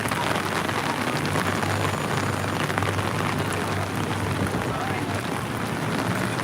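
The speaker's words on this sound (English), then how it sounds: "I don't think this rain's going to end anytime soon" Steady rain falls outdoors at a theme park during Halloween Horror Nights, a constant dense hiss of drops on surfaces lasting throughout, with no voice over it.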